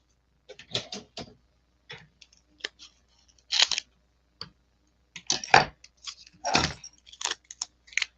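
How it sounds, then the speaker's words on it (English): Scissors clicking and rustling in short bursts, with scattered snips and taps at close range and quiet gaps between. "Let me grab my scissors here."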